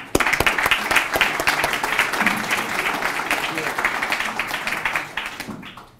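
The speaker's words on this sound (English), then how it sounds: "So please join me in welcoming Dr. Mark Sargent." Lecture audience applauding to welcome a speaker, a dense burst of many hands clapping close by that holds steady for several seconds, then thins out and fades near the end.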